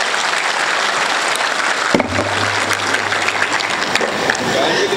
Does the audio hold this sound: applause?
yes